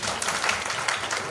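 An audience at a parenting workshop breaks into clapping, a brief, busy patter of many hands with small peaks, heard alone without speech.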